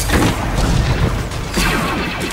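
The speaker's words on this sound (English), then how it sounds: "Oh, pulse cannon. Awesome." A pulse cannon firing in the video game Star Wars: The Old Republic, a dense continuous barrage of loud booming blasts and crashing impacts with no pause, filling the mix throughout.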